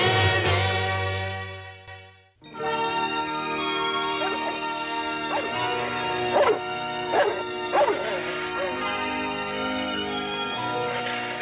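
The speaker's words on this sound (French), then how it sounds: "Écoute Hitler, encore un aboiement" A dog yips and whimpers several times in short, high bursts, heard over steady background music that fills the whole stretch.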